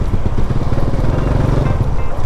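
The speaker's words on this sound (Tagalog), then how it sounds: "gamit natin ngayon yung pinakaunang motor natin" A Honda Wave 100 motorcycle engine runs close by with a loud, rough, pulsing putter and irregular revs. Some low rumble comes from passing traffic.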